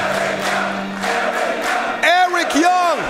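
Crowd at an Unlimited Wrestling Wrestival show cheering and roaring for a wrestler, a loud steady mass of voices with rising whoops near the end.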